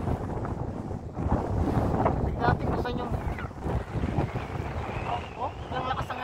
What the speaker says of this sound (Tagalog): Oh, ilang lakas ang hangin.